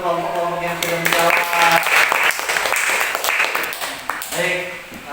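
Classroom applause during a teaching practice session, a burst of many hands clapping for several seconds over a sustained tone, with a voice talking at the start and end.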